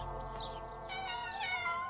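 Kittens in an old cartoon meow in a short, close series of high, wavering cries, with no talk.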